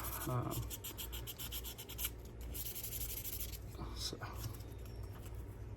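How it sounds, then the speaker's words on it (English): Fine sandpaper rubs over the steel blade of a Wards USA three-blade stockman pocketknife in quick scratchy strokes, close up, in bursts with brief pauses, while someone talks throughout. "we don't want to sand too much on the blade"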